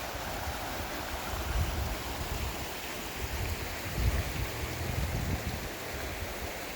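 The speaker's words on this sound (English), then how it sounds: "Beautiful little creek in front of the house." A small creek flows in front of an old house in Cataloochee, Great Smoky Mountains National Park, giving a steady, moderate broadband rush of running water with soft low swells and no voices.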